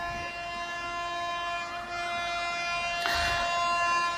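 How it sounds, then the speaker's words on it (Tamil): Train approaching on tracks, a steady rumble with sustained horn-like tones throughout and a brief louder burst near the end. "இந்த ட்ரெயின் வந்துகிட்டு இருக்கு."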